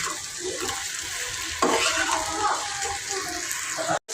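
Okra frying lightly in a pan while being stirred, a steady hiss of oil with scraping and shuffling of the spatula, close and moderately loud, with a brief burst of stronger sizzling partway through.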